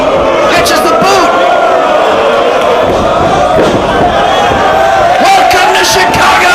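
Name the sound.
wrestling crowd cheering in Chicago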